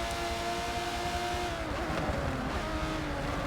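Race car engine roaring steadily in an Aston Martin DBR9 racing video game at the Nurburg GP circuit, a loud continuous drone whose pitch shifts slightly as the car passes and carries on, with no talk.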